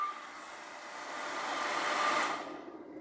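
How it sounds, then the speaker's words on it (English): A blow dryer running from a battery power system blows with a steady, loud broadband whoosh and hum, swelling slightly before cutting off near the end and leaving quiet. "let's take the blow dryer off"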